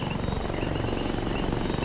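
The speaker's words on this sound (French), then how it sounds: "Ah, voilà l'hélico." A helicopter in the military video game Arma 3 gives a steady, continuous rotor-and-engine drone with a high whine on top, holding even loudness throughout, with no talking.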